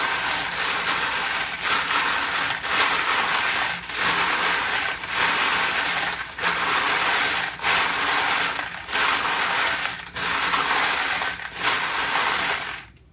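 Loud, continuous rattling and clinking of 9mm brass cartridge casings shaken inside a cleaning container, in rhythmic bursts with brief pauses roughly every second, close and harsh with no talking.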